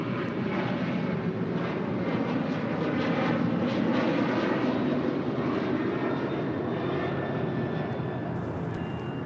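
An airliner departing from the south side runway at LAX, a steady loud broadband engine roar that holds throughout without a break, with no talk over it.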